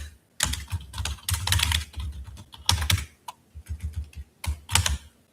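Quick bursts of typing on a computer keyboard, close and fairly quiet, with rapid clicking keystrokes broken by short pauses.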